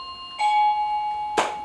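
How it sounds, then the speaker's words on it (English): An electronic doorbell chimes with a clear two-tone ring, the tones sustaining and overlapping, with a brief noisy rattle near the end. "That's my doorbell."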